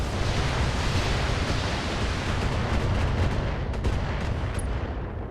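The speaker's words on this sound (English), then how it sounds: "those are long-range missiles, so anything would have gotten me at that point" Long-range missile fire from a mech in the BattleTech video game makes a dense, continuous roaring rush of launches and impacts, loud and unbroken throughout, with no voices.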